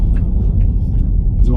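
A Tesla Model 3 SR+ parks in a hotel car park, giving a steady, close, low rumble of the car that holds level and continuous for the whole short stretch, with no speech heard.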